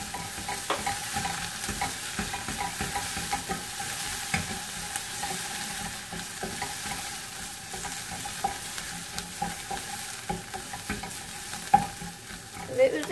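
Pepper paste sautés in a pan while being stirred, a soft steady sizzle with repeated scraping strokes of the spoon, close and fairly quiet, with no voices.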